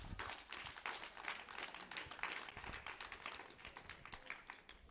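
A small gathering claps briefly at a community event, the individual hand claps fairly distinct and uneven, fading and thinning toward the end at low volume.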